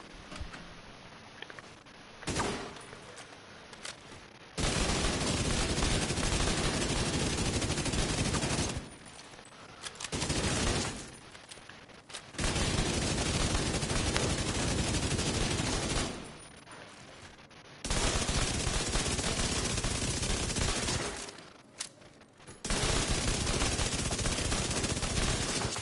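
Bursts of SMG fire in The Division 2, loud sustained volleys of a few seconds each separated by short pauses, with no talking.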